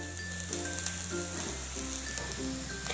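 Pohe with green onion tops sizzles in a pan: a steady, even frying hiss that carries on alone, at moderate level and close by, with no voices.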